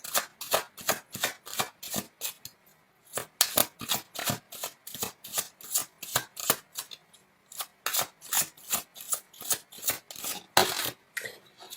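Tarot cards being shuffled by hand and laid out for a reading, a steady run of crisp riffling slaps and flicks with brief pauses, close and fairly loud with no talking.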